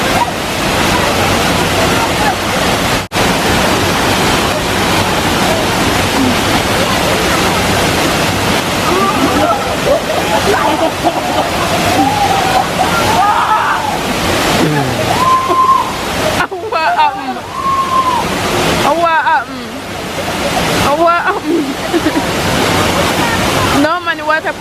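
Reach Falls in Jamaica roars continuously as rushing water pours and splashes in a loud, close, dense wash, with people talking and calling out over it.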